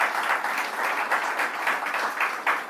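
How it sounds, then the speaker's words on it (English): Audience applause at a bank branch commissioning ceremony in Manchester: a moderate room of people clapping steadily, the applause swelling in slight waves throughout. "Our colleagues from the UK government, please give them a round of applause"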